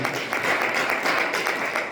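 Church congregation applauding together, steady broadband clapping that fills the space close by, lasting throughout with no pause and only a faint murmur of voices beneath it.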